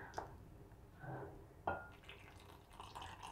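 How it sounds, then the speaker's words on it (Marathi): Milk is poured into whole wheat banana yogurt pancake batter in a kitchen bowl, giving soft splashing and dripping liquid sounds in a few short bursts, fairly quiet and alone. "दूध टाकायचं आहे."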